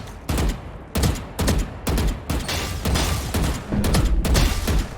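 Gunfire in the game Valorant, fired at bots: repeated loud bursts of rapid shots in quick succession, close and dominating, with brief gaps between volleys.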